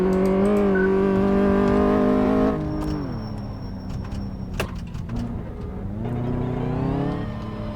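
Engine revving from a car in Car Mechanic Simulator 2014 as it drifts under handbrake: a loud, steady harmonic drone that drops in pitch midway, then climbs again, with a thin whine and a few sharp knocks.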